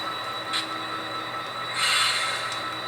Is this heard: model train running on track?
yes